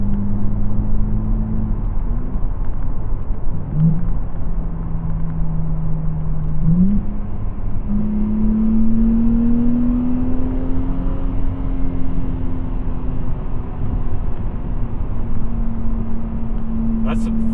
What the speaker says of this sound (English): we'll hit this on ramp here in manual, so you can hopefully hear the downshifts.